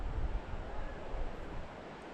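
Wind blows across a trout fishing lake with a soft, steady rushing and some low buffeting against the microphone, no voices present.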